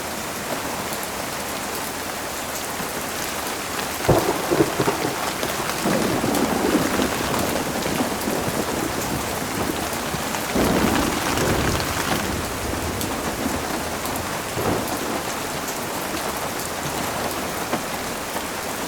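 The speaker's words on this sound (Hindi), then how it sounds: "बारिश, आप खुद फील करिए।" Heavy rain pours steadily and densely, with rolling rumbles of thunder rising around the middle of the stretch, continuous and close with no voices.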